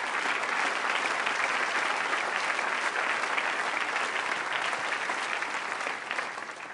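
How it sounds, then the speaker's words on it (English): Sustained, loud applause from a large audience at the 2013 Clinton Global Initiative Annual Meeting, thanking sponsors; dense, even clapping throughout that tapers slightly at the end. "I'd like you to give them a round of applause."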